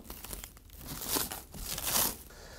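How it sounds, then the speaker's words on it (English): A knife slicing and peeling plastic wrap off the package of an Epson Stylus Pro 700 printer, heard as close, continuous crinkling and tearing in two louder surges, with no talking. "use a knife and carefully cut all of the plastic from outside of the package"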